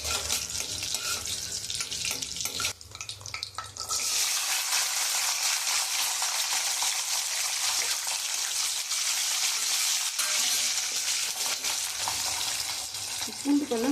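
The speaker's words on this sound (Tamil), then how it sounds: "பூண்டு பல்லும் சின்ன வெங்காயத்தையும் போட்டு நல்லா எண்ணெயிலே வதக்கணும்." Around 20 to 25 garlic cloves and chopped small onions sautéing in oil in a pan, a loud, continuous crackling sizzle that flares up after a few seconds and holds steady, with some stirring noise early on.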